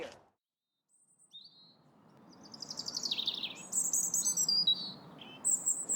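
A bird calls outdoors at Point Molate, a series of high chirps and tweets rising in a repeated rhythm over a soft steady outdoor background, fairly close and clear.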